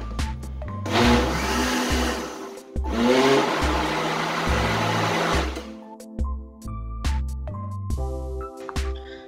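A blender whirs loudly while mixing the liquid ingredients for a pineapple rum cake, running in two long bursts with a short stop between them, followed by some lighter clattering and background music.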